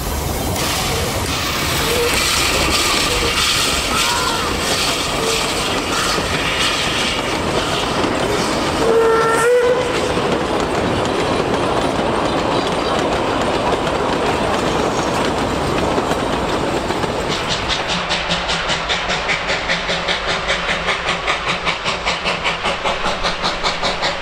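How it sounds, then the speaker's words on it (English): Puffing Billy steam train 12A, split from its other half at Menzies Creek, works up the grade towards Emerald, with continuous loud rumbling and rail clatter, a brief whistle blast midway, and rhythmic chuffing emerging toward the end. "With the train having been split at Menzies Creek, 12A continues to its destination."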